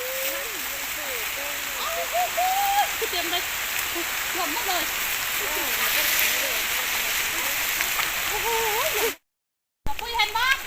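Steady rain hisses and patters throughout while someone talks over it during red ant egg collecting, then the sound cuts out briefly before the rain and voice return.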